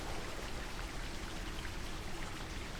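Freezing water pours down in the dungeon-crawler game Cryptmaster as a dense, steady, rain-like hiss of falling water with no pauses.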